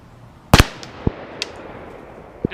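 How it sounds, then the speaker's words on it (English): A single sharp handgun shot fired one-handed at an outdoor range, loud and close, followed by a few faint distant pops and clicks. "See if I can shoot this one-handed here."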